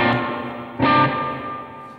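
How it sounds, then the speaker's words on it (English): An electric guitar plays a distorted note, then a second struck note rings out through a spring reverb with a bouncy, decaying tail that fades over about a second. "So here we have a dry sound again and the spring reverb."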